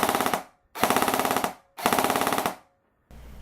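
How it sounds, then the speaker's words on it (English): A KWA SR-10 airsoft rifle fires three loud, close full-auto bursts of rapid, evenly spaced mechanical shots, each lasting under a second with short silent gaps between. "The KWA SR-10 has an amazing trigger response, as you can see now."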